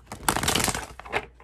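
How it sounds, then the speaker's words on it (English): Tarot cards riffle and slide against each other in a quick, close, continuous shuffle with a few brief pauses. "Might take me a while to shuffle."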